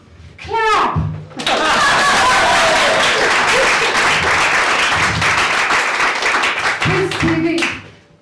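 A stand-up comedy audience in a pub gives a burst of loud, sustained clapping and cheering that swells quickly, holds for several seconds, then fades, with a voice briefly heard before and after.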